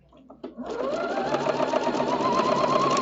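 After a few soft clicks, a sewing machine runs continuously and close, its even rapid hum stitching through quilt batting for a wall hanging.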